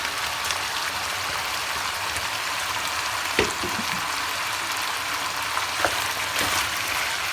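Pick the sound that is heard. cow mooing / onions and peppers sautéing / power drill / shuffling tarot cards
onions and peppers sautéing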